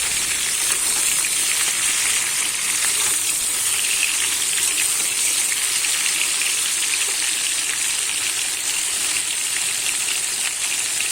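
Washed, chopped ridge gourd fries with potatoes in a pan for a Bengali-style ridge gourd dish, giving a continuous, even sizzling hiss at moderate volume throughout, with no talking.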